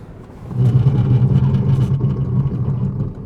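A Citroën E-C4 X electric car's motor hums loudly and steadily while braking hard from 100 km/h, swelling in at the start and holding a droning, mid-pitched tone as the vehicle moves.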